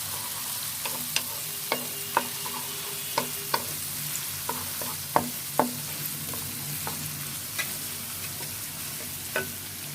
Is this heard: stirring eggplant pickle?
yes